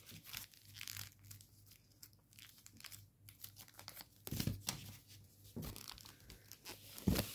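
Paper crinkling and crunching as it is swivel folded, including the bottom flap of a squash fold, while forming an origami Phalanx fighter jet; soft close rustles come in bursts, with a louder crinkle near the end.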